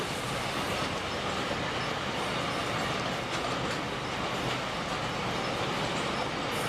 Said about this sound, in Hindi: एक बहुत ही खूबसूरत लोकोमोटिव। मैं तो इसे फ्रीट में डीजल कैटेगरी का किंग कहता हूँ।